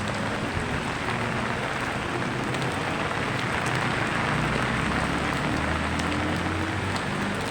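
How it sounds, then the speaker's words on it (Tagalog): Heavy overnight rain pours steadily in Bulan, Sorsogon, Philippines, a dense continuous hiss of drops hitting surfaces from start to end, with no break in the downpour. "Walang tigil na ulan, magdamaga na ulan."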